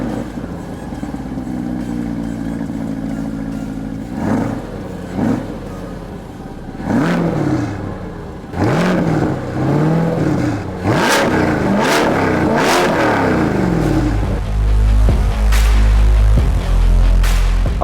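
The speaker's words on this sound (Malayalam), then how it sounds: "അപ്പം അതിൻ്റെ ഡീറ്റെയിൽസ് പറയുന്നതിനേക്കാൾ നല്ലത് ആ എക്സോസ്റ്റ് നോട്ട് നമുക്കൊന്ന് കേൾക്കുന്നത് തന്നെയാണ്." Corvette Stingray dual exhaust rumbling close and loud, with repeated sharp revs that rise and fall over a burbling idle, then a deep sustained roar at the end, with no talk.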